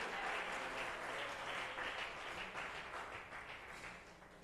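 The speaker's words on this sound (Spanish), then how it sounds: "dele ese aplauso al Todopoderoso" A church congregation applauds during a worship service, with a thick, continuous clapping that carries evenly and then gradually softens toward the end, no speech on top.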